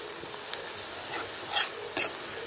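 Onions fry in a pan toward golden brown, giving a close, steady hiss with a few scraping stirs of a spoon.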